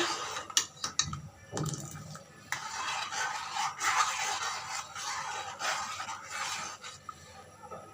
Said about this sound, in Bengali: কর্নফ্লাওয়ার দিয়ে দিয়েছি দিতে দিতে আমাকে খুব ভালোভাবে নাড়া দিতে হবে না হয় এটা দলা বেঁধে যাবে